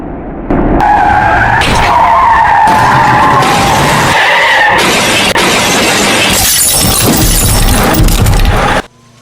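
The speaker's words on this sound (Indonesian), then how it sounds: "Detik-detik bus blong rem tabrak 3 kendaraan hingga berakhir nyungsep" In Bus Simulator Indonesia, a bus with failed brakes ploughs into three vehicles, including a police car. Loud, continuous skidding and grinding mix with shattering glass and impacts for about eight seconds, then cut off abruptly.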